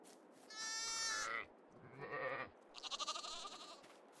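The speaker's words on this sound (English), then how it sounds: "Chickens and sheep." Farm sheep in the Farming Simulator video game bleat three times in a row, each call clear and separate, over a quiet background with no talking.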